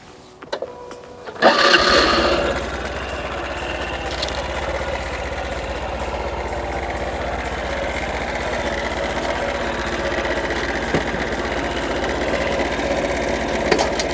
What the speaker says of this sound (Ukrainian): Двигун працює на відмінно.